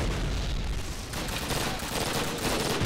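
Dense, continuous gunfire and explosions from a Call of Duty match on the Train Yard map, loud and sustained without pause, like a heavy firefight close by.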